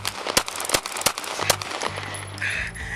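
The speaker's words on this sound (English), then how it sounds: "Phillips made the decision to draw her firearm and fired 5 shots" A police officer fires five shots from a handgun during a dashcam-recorded confrontation: several sharp, loud bangs in irregular succession over a noisy background, with a siren-like tone near the end.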